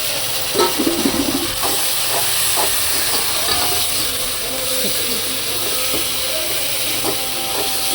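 Green chilli, mustard seeds, onion, garlic and tomato sauté in a pan for pasta, giving a continuous bright hiss and sizzle with small crackles and faint background voice.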